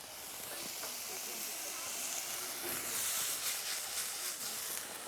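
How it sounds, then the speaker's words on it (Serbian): Porcini mushrooms and onion fry in a pan in a village kitchen in Kosovo, giving a soft, continuous sizzle and hiss close by with no talk over it. "Propržit ću vrganje. Zajedno sa lukom."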